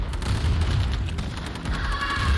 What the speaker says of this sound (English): Power plant getting shelled